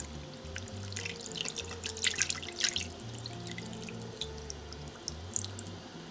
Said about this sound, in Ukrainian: сюди зараз виливаємо маринад